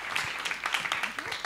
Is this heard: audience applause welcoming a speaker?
yes